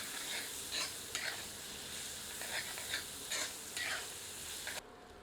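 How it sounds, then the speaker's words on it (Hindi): Finely chopped onions sauté in hot oil over medium heat for a spicy chicken curry, a continuous close sizzle broken by several stirring scrapes before the sound cuts off abruptly near the end. "पुनः तेल गर्म करके इसमें बारीक कटी हुई प्याज ऐड करते हैं। आंच मध्यम करके प्याज को 5 मिनट भूनते हैं।"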